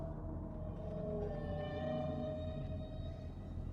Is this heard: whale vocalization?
yes